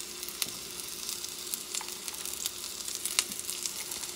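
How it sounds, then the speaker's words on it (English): Spinach sautés in oil in a pan a couple of notches below medium heat, giving a steady quiet sizzle with scattered faint crackles and pops and no talking. "Couple notches below medium heat. I'm just going to sauté them."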